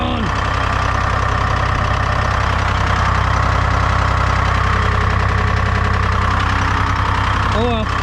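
A sputtering engine runs roughly and unevenly at full throttle, loud and close, with knocking pulses and a voice speaking briefly over it.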